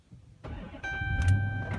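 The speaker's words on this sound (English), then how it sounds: "Starts the car up." A 2013 Dodge Charger R/T with the Hemi engine starts up: a short cranking catch, then a firm rise into a steady, close idle with a high electronic whine above it.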